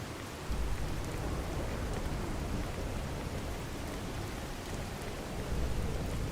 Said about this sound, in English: Rushing down with rain, rad storm